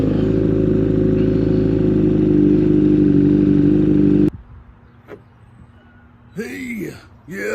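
A custom 1986 Honda CB1000 motorcycle revs loudly through an aftermarket exhaust, raspy and buzzing for several seconds, then cuts off, followed by quieter sounds and brief rising tones.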